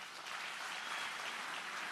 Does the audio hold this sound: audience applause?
yes